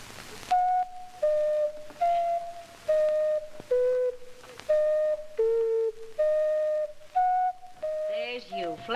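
An ocarina, a breathy, pure-toned wind instrument, plays a slow tune of separate sustained notes, each tongued cleanly, heard close and alone.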